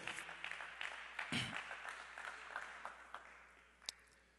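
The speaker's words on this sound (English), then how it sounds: "Clap your hands as you're being seated." A church congregation claps as people take their seats, a faint, scattered patter of hands with a few sharper claps standing out toward the end.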